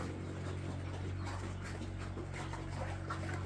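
A dog whimpers softly and steadily against a constant background hum, with no clear talking.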